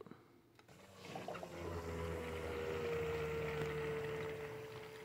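A water-cooling pump hums steadily inside a custom loop in a Jasper Xbox 360 after refilling, with a watery gurgle and trickle as the loop fills, growing louder after the first second and holding steady.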